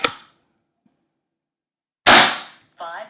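A single sharp crack from a Reximex Lieva .22 PCP air rifle fires at the start, then fades into silence; a second louder report follows near the end with a brief ringing tail.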